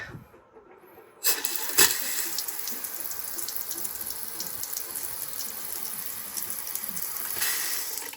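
Water rushes steadily into the toilet tank of a Keystone Cougar fifth-wheel RV fitted with a Brondell bidet, starting abruptly after a quiet moment with a brief bump, then a constant close hiss that swells slightly near the end.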